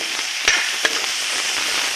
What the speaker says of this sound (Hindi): और मैं लगा रही थी तड़का।